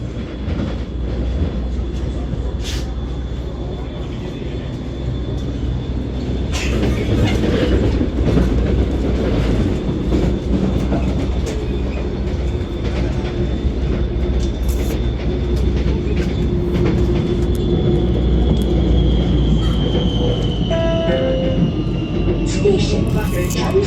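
A Kuala Lumpur LRT light rail train in Malaysia runs steadily with a loud continuous rumble, rhythmic wheel clatter and a long rising electric whine, sustained throughout.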